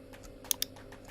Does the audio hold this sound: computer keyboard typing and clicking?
yes